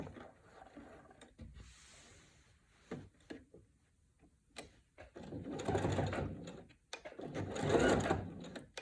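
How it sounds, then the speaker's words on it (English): Sewing machine stitching quilt binding in bursts, short whirring runs that grow longer and louder toward the end, separated by brief pauses with light mechanical clicks. "I'm gonna go ahead and continue sewing."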